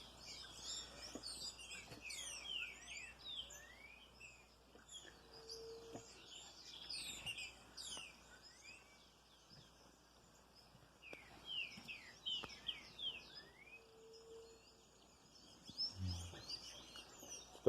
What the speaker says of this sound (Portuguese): Os passarinhos ficam cantando em volta aí, os trinca-café